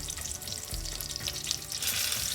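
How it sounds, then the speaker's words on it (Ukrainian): Pork or meat cutlets sizzle and crackle steadily in a hot frying pan, a constant frying hiss with small pops, no voices. "продовжуємо смажити відбивні на розігрітій сковорідці до скоринки"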